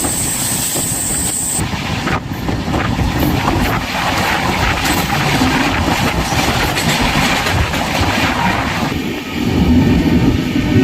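Gitanjali Express train running through hilly country, a loud continuous rumble of wheels on track with rhythmic clatter and engine drone, steady throughout with a slight swell at the end.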